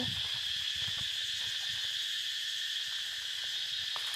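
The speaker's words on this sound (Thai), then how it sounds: "มีเสียงจักจั่นพร้อม" A steady, high drone of cicadas in a Thai orchard hums without pause in the distance, with faint low rustles beneath.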